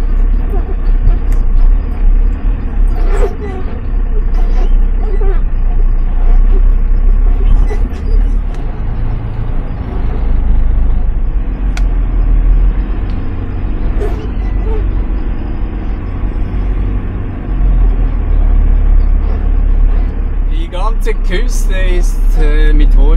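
A vehicle climbs back up a sandy hillside track in the Moroccan Atlas after turning mid-slope, giving a continuous low engine rumble with a voice talking over it.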